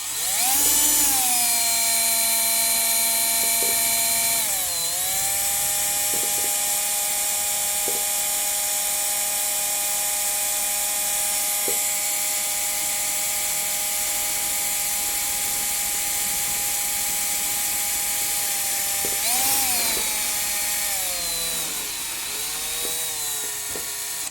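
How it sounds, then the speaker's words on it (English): A power drill whines steadily at high pitch drilling mounting holes for a Pilot 20cc gas engine, with brief dips where the motor slows, loud and close. "I'm going to drill my holes right where I burn those"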